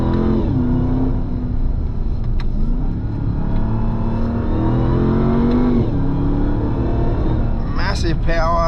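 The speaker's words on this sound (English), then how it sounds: "Second gear, bit of tyre squeal." A 2024 RAM 1500 TRX Final Edition pickup, roughly 700 horsepower, accelerates hard in second gear, its engine note rising steadily in pitch with a brief shift near the end, heard close from inside the cabin.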